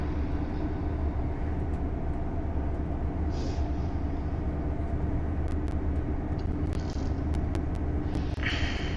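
An LNER Class 801 electric train in a video game runs steadily on a bumpy ride with a dense, continuous rumble and hum, punctuated by occasional sharp clicks and faint hissing bursts.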